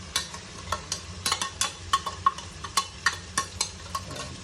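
Crushed chili and shallots sautéing in a pan for chicken kondattam, with a steady sizzle under repeated sharp stirring scrapes and clacks of a spoon against the pan, close and fairly loud.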